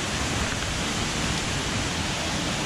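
Waterfall in an Ecuadorian rainforest, a steady, dense roar of falling water that fills the scene evenly and loudly without pause.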